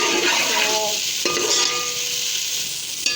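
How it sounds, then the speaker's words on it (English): Masala spices for aloo tahari sizzle and fry in a pan while being stirred, with a steady close crackle, scraping stir strokes and a sharp clink near the end, and no talking. "Firstly we have to cook the masala, these all spices, a little bit."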